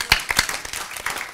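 A few people in a conference audience clap, with sharp, separate hand claps near the start and looser, scattered clapping continuing briefly after.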